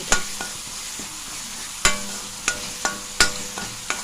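Macaroni with salt and spices is stirred in a pan, a soft sizzle running underneath as a spoon scrapes and knocks against the metal in several sharp, irregular strokes.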